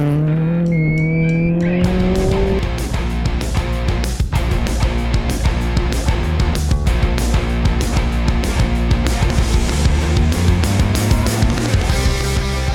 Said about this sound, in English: Bertus Labuskakny and Peter Chadwick came through this tight corner.